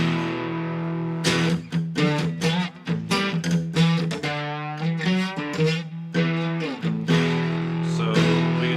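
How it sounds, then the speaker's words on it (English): An electric guitar runs through a TS-808 overdrive pedal with the distortion on, playing a string of picked notes and chords with thick, gritty sustain that rings continuously and loud. "I want to hear it with distortion"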